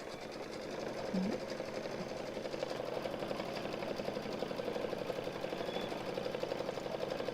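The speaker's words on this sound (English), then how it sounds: "Yeah, it's sewing." A Kimberbell embroidery sewing machine stitches a white lacy loop design, a steady rapid needle chatter that runs evenly throughout at moderate loudness.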